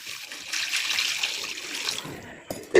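Water poured into a cooking pan for tomato sambar, a broad, steady splashing and trickling rush lasting about two seconds, then tapering off before a couple of short clanks near the end.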